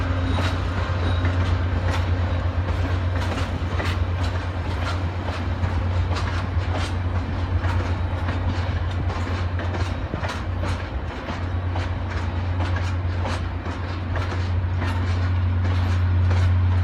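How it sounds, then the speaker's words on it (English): A new light rail train passes near a lake, with a steady loud rumble and a continuous low hum under rhythmic clickety-clack wheel beats that repeat across the whole stretch. "That's got to be the new light rail train."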